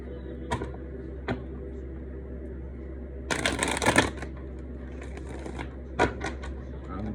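A deck of cards riffled in a quick burst, then several soft taps and shorter shuffles in a quiet room.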